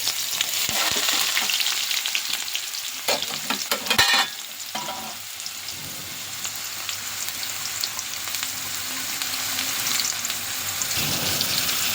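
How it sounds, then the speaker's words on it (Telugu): Two chopped onions frying in oil for a taro (chamagadda) pulusu, a loud continuous crackling sizzle with bursts of spatula stirring and scraping early on, then settling into steady frying, no voices. "ఇందులో వేసాను కదా ఆయిల్లో ఒకసారి చక్కగా కలుపుకుందాం కొంచెం బ్రౌన్ కలర్ వచ్చేంత వరకు వెయిట్ చేద్దాం"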